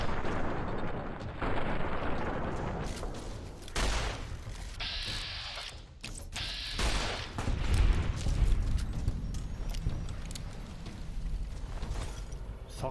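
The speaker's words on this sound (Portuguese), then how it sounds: "Só 4 tiros." Gunfire in the video game Fallout: New Vegas, played on hardcore mode, comes as several heavy, booming shots and blasts. These are spaced irregularly among game noise and sound loud and close.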